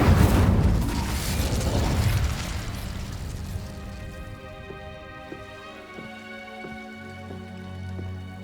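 Spell blasts and explosions in the Hogwarts Legacy video game: a loud, dense burst of blast noise rolls off over a few seconds, followed by quieter tonal game sounds and a low swelling hum.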